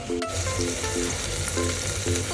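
Spices for masala rice fry and sizzle in a hot pan, a continuous close crackle with light stirring scrapes and no talking.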